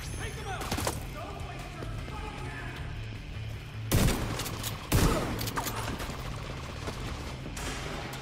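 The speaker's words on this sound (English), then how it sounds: "The guns have a cool sound for the most part" Gunfire in The Division 2 video game, two sharp loud bursts standing out above a steady bed of game ambience and background noise.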